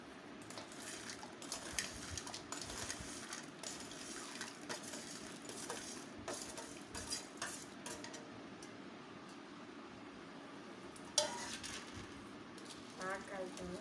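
Jinnu (colostrum) milk mixed with regular milk and jaggery being stirred in a pot: a spoon scrapes and clinks against the metal in a steady rhythm, under intermittent talk.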